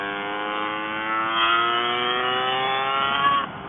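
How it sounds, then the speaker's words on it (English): A Lambretta SSR 265 LC two-stroke scooter with a Casa Performance kit, making about 56 hp, accelerates on the road at half throttle, its engine note climbing steadily in a loud, buzzing, rising whine close up. "I'm on about half throttle there, and it's accelerating faster than I need already."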